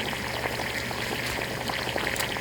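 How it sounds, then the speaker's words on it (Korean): Meat and seafood simmering in boiling mala broth made with dried chili, mala sauce, bone stock and water, with tofu noodles and mushrooms: a steady close bubbling and sizzling wash with no talk. "고기와 해물을 넣고 끓이다가"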